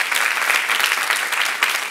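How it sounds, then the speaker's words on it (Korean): An audience bursts into applause, a dense, lively spread of many hands clapping together at close range, staying loud and steady before easing off at the end. "할 수 있다고 믿는 사람만 박수 한번 치세요."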